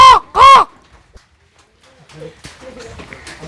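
A voice imitates a crow, giving two loud, nasal caws in quick succession, then a pause before people start talking.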